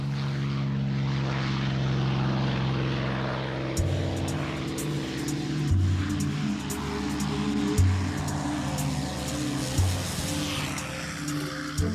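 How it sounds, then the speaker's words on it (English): P-51 Mustang World War II fighter with a loud, throaty piston engine roar and propeller drone, holding a steady growl and shifting pitch several times with rhythmic surges, close and powerful. "The P-51 Mustang."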